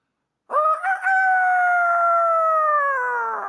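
A man imitates a rooster crowing, delivering one long, loud, sustained cock-a-doodle-doo with a sharp start and a slowly fading tail, heard alone.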